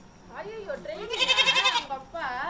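A goat bleats in a few wavering, drawn-out cries, loud and close, with people talking around it.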